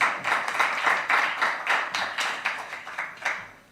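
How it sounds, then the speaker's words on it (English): An audience at a press briefing claps for a speaker on stage, a moderate round of applause with distinct individual claps, steady at first and then thinning out toward the end. "Come on, a round of applause for her."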